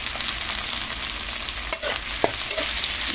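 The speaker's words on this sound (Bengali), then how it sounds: "আর একটু ভেজে নেব।" Chopped garlic and capsicum fry in a pan with a steady, dense sizzle. A few brief stirring scrapes and taps sound near the end, and no one speaks.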